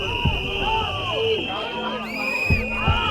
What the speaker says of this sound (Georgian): ხომალდიდან გადმოსულ ემიგრანტებს კი აგრესიული შეძახილებით ხვდებიან